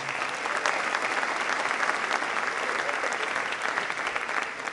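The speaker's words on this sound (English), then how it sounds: "my colleagues, let's give them a round of applause." Sustained applause from a large audience, thick continuous clapping with a few louder individual claps standing out.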